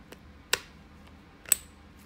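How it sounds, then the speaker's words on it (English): A 4-gauge wire terminal snaps into a bulkhead connector housing on the plug side, giving two short, sharp clicks about a second apart over quiet background. "You can hear it click in"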